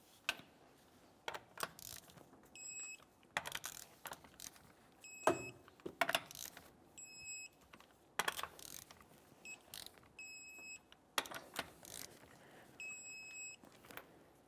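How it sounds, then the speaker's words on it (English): Torque wrench tightening lug nuts on a 2001-2005 Ford Explorer Sport Trac wheel: quiet rapid ratcheting clicks in repeated bursts, with thin electronic beeps between some of them. "Let's torque these in a crisscross manner."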